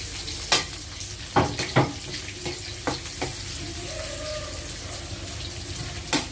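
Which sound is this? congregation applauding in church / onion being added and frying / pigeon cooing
onion being added and frying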